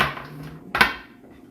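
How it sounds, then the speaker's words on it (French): Nutella and cocoa marble donuts being unmolded from a mould, with a sharp clatter near the middle rising over a steady low background of kitchen handling sounds. "on va maintenant procéder au démoulage de nos donuts"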